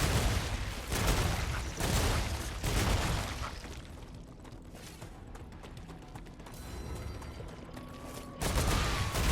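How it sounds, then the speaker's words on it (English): Trees explode in the video game Star Rupture with a string of booming blasts and rattling bursts, loud and dense, layered with mechanical noise and continuing in waves. "I love that the trees have literally, like, grown predisposition to explode."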